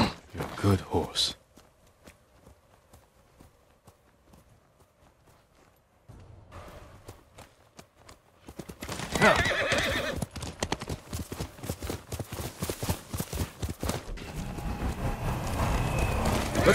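Horse hooves clip-clopping on the ground in the samurai video game Ghost of Tsushima, with a whinny, a quiet stretch, then faster steady hoofbeats building louder toward the end.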